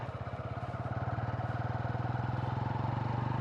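A Honda CB125 Hornet motorcycle rides over a rough road, its engine putting out a steady, fast pulsing thrum with rattly clatter, close and constant, no talking.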